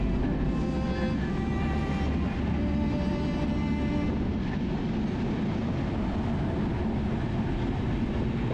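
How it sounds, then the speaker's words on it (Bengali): A train standing at Natore railway station gives a loud, steady, rumbling drone with tonal engine lines in the opening seconds, continuous throughout with no voices. "তো এই ট্রেন এখন একটু পর ছেড়ে দিবে।"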